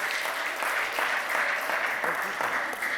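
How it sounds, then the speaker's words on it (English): At a disability employment roundtable, the audience in the room applauds, a close, full burst of clapping with a slightly uneven pulse that carries on without pause. "So can we give an applause, a thunderous applause to Kechu?"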